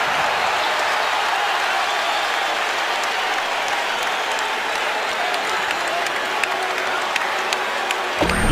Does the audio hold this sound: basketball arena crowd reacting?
yes